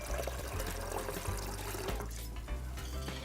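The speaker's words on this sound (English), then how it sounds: "Let me put water on fire boiling for my pasta." Water runs and splashes into a pot, filled for boiling pasta in a home kitchen, a close, steady pouring stream with bubbling flutter and small shifts in flow.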